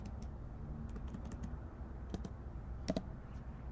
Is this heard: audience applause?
no